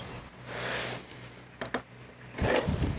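A freshly baked, slightly puffy pizza from a Ninja Woodfire outdoor oven is sliced with a couple of short, crisp scraping cuts through its thin crust, close up over a low steady hum.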